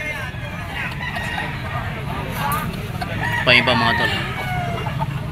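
Stag roosters for sale, banderado birds of a sweater and iskulin line, crow and cluck amid a busy market babble, with one loud nearby crow rising midway while someone talks over the steady crowd noise.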